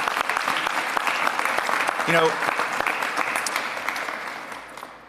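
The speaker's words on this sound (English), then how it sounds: "Let's give them a round of applause for their support." Sustained audience applause at a city mayor's education announcement, steady and fairly loud throughout with a brief spoken phrase breaking in about midway before the clapping slowly tapers.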